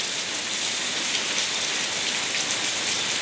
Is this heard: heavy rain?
yes